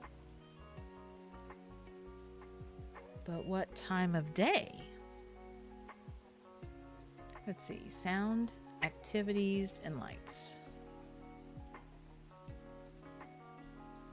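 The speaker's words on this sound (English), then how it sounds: "So we've got the rain." Steady rain ambience in the cozy video game SpiritCity: Lofi Sessions, a soft continuous patter beneath a player voice talking over it, with light musical tones now and then.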